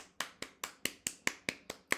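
A steady run of nine sharp hand claps, evenly spaced about a quarter second apart, crisp and close with no talking.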